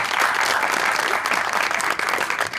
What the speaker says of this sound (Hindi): देखो फिर तालियां